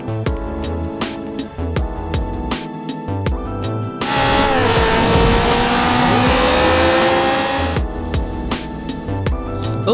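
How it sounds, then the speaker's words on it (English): An Audi R8 in GTA 5 revs and drives with engine noise, then bursts into a loud, sustained tire squeal that lasts several seconds before the driving sound returns, with music-like tones woven through the mix. "It's a Audi R8,"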